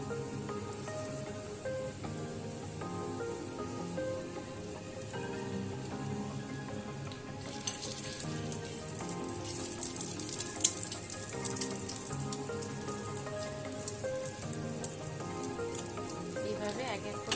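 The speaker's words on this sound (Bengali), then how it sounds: "দিয়ে এবারে আমি এগুলোকে তেলের মধ্যে ভেজে নেব এইভাবে।" Breakfast snacks fry in white oil on a hot griddle, a steady crackling sizzle like light rain that runs throughout, with music playing underneath.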